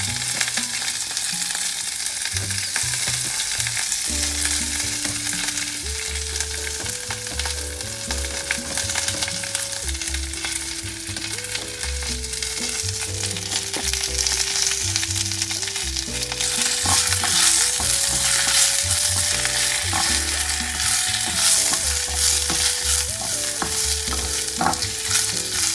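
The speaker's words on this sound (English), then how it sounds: "Just lightly stir fry." Quinoa stir-fried in a pan with a little mayonnaise, giving a steady, loud sizzle with the scrape of stirring throughout, while soft music plays underneath.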